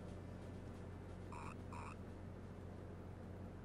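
In the game Mother 3, a frog gives two short, bright croaks in quick succession over a steady low background hum, with no voices present.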